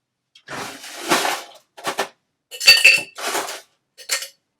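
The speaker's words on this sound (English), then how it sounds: "Let's get some ice." Ice cubes clink into a cocktail glass while a Cognac Sidecar is prepared. Five separate bursts of sharp, bright clinks and rattles are heard, close and loud, with silence between them.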